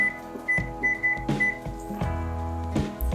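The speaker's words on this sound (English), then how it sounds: "I'm gonna set the timer for 3 minutes" Short electronic beeps sound in a quick series as buttons are pressed to set a kitchen timer, with faint clunks between them.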